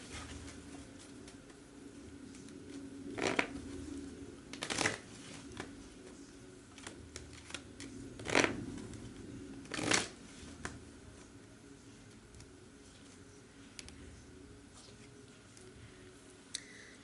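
Tarot cards being shuffled in several short riffling bursts at irregular intervals, close and fairly quiet against a soft steady background hum, with no talking.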